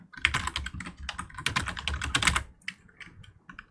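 Rapid typing of git config commands on a computer keyboard, a dense run of close, crisp key clicks for about two and a half seconds before trailing off into a few scattered taps.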